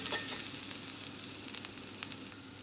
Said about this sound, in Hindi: इसमें हम डाल देंगे लहसुन, इसको वापस से फ्राई करेंगे।